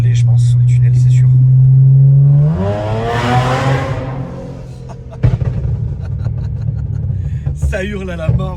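A car engine revs hard inside a tunnel, a loud droning hold that climbs into a screaming, echoing roar and then settles, followed by sharp exhaust pops and crackles while people talk over it.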